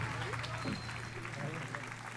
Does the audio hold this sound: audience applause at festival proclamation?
yes